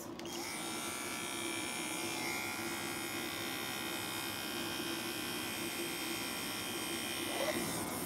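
Electric hair clippers buzz with a steady, even drone, close and continuous for several seconds as they cut hair, with no talking.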